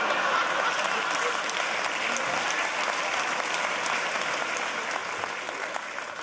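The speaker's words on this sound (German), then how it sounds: "Einige klatschen" A comedy show audience applauds steadily, a dense crackling mass of clapping that stays fairly even and slowly eases off toward the end, with no one talking over it.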